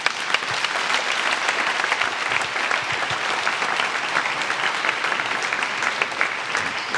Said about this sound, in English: So let's give a warm applause.